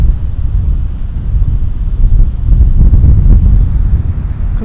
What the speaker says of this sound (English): But it's totally blowing a gale.